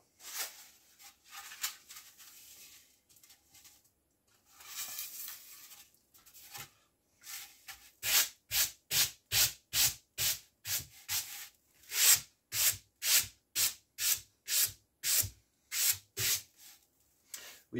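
A raw wing core piece being sanded by hand: soft, irregular rubbing at first, then a long run of steady, rhythmic back-and-forth strokes, close and moderately loud.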